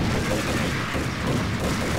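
Gunshots in Max Payne, a steady, loud barrage of overlapping shots and booms filling a brief stretch with no clear gaps between them.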